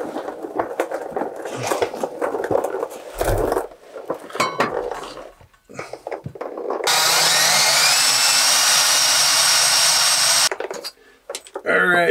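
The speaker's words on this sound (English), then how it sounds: "I know that we have to drill right here." A power drill whirs steadily for several seconds, loud and close, while drilling to install a Webasto Dual Top Evo 6 diesel heater, after a stretch of clattering and handling noises; it cuts off and briefly restarts.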